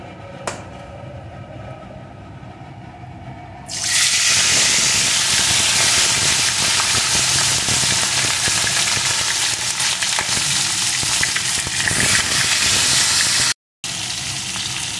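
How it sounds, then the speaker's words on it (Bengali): Fish pieces coated in salt and turmeric drop into hot oil, and a low background suddenly bursts into a loud, steady sizzle with bubbling hiss. The frying stays close and continuous, with a brief cut near the end. "এখন লবণ হলুদ মাখানো মাছগুলো একে একে এর ভিতরে দিয়ে ভালো করে ভেজে নেব।"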